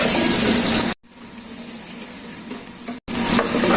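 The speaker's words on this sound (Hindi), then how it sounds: "प्याज और लहसुन अदरक को हम यहाँ पे अच्छी तरह भून लेंगे" Onion, garlic and ginger fry in a pan for a kaleji dish, giving a loud, steady sizzle with stirring scrapes that briefly drop out twice before resuming.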